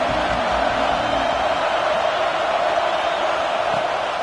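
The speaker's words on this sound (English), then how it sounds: "Here comes the noise from this big crowd in Happy Valley on third down." A big college football stadium crowd in Happy Valley roars steadily on third down, a dense continuous wash of noise without clear peaks.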